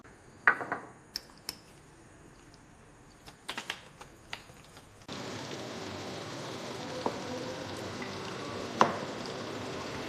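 Green cardamom pods for homemade biryani land in a pan with scattered sharp clicks and taps, then a steady, moderate frying sizzle starts halfway and continues to the end, with one brief crackle near the close.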